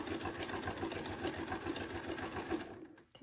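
Sewing machine stitching a feather arrow quilt panel, running at a steady fast mechanical whir with a regular needle chatter, close up, then stopping abruptly near the end.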